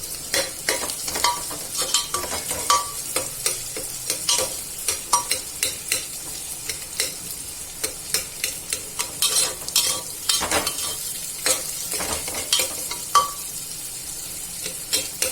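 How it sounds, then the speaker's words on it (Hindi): Soaked lentils and turmeric are roasted and stirred in a pan while making spicy dalia, with repeated close scraping and clattering strokes in an irregular rhythm over a steady low sizzle, no talking. "ये दाल को भूनूंगी मैं, इसमें दाल को डालूंगी, दाल को भून के हल्दी को भूनूंगी।"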